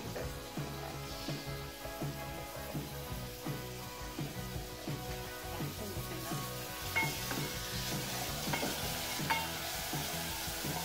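Sliced onions with salt fry in a pan, giving a steady close sizzle with occasional light stirring scrapes and no voices.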